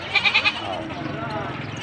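Goats bleating near a livestock weighing area, four quick wavering bleats in a row over busy outdoor background noise and voices.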